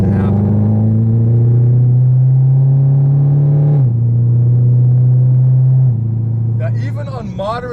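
Exhaust drone from a 2017 Camaro ZL1 fitted with long tube headers and glass packs under moderate acceleration: a loud, steady low droning hum that steps down in pitch partway through, with a voice briefly heard near the end.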